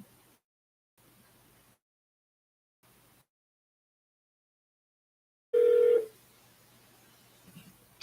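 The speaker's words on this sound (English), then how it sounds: "are you ready for us to give Drew a call" A telephone being dialed for a call: a few faint, short tone bursts separated by silence, then one louder steady tone lasting about half a second, followed by quiet line noise.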